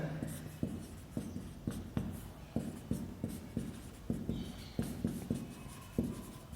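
Close, quiet writing strokes come in a steady rhythm of short scratchy pulses as a lens diagram is drawn during a physics lesson, with no talk over them.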